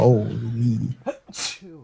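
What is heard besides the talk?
sneeze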